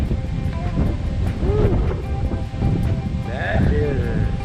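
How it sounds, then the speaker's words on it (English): Strong wind gusting outdoors near trees, a loud rushing roar buffeting the microphone while people talk over it. "wind's really picking up"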